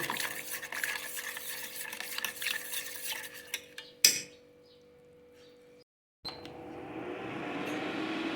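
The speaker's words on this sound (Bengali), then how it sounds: "আমি এটা জাল দিয়ে নেব" A mixture with chili flakes stirred in a pan on an induction cooktop, with close scraping and clinking of a utensil, a sharp knock, then near quiet before a soft rising hiss of heating.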